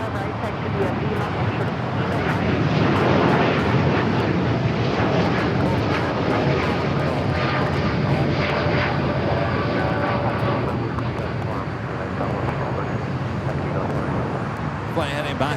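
An airliner arriving from Rome at Los Angeles LAX airport produces a steady, loud, broad jet roar that fills the whole stretch without letting up, with talking over it.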